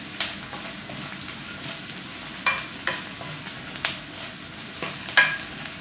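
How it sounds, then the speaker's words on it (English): Onion and garlic sauté over low heat in a pan, a continuous gentle sizzle broken by several sharp clicks and scrapes of stirring, close by with no voices. "So still sauteing our onion and garlic."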